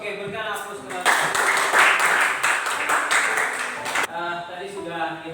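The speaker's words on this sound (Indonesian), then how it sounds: "Oke, berikan aplaus kepada" Audience applause for a class presentation at a high school biology lesson bursts out for about three seconds, dense and fairly loud, with talking before and after it.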